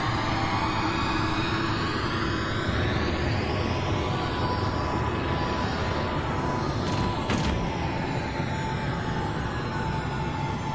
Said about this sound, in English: Spender took the Explorer pod for a low-level flyover.